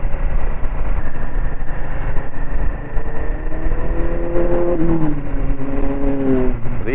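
Continuous loud engine noise of motorcycles such as a Kawasaki Z900 and a Triumph Street Triple passing on a coastal road, rising and falling tones as bikes ride by.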